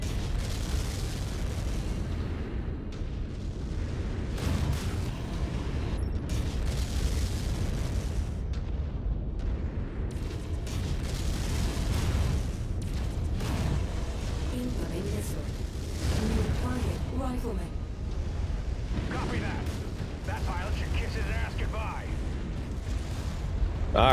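A fuel tank detonates amid mech-on-mech combat in a modded mech video game, a dense run of heavy booms and bursts layered over constant rumbling battle noise, with a player's voice talking throughout.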